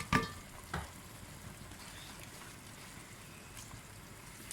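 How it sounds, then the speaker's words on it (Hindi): Soaked thick rice is tipped into a pan of sizzling onion-tomato masala for moong dal khichdi, with a couple of soft thuds at the start followed by a low, steady frying hiss. "अभी इसमें मैं चावल डाल रही हूँ।"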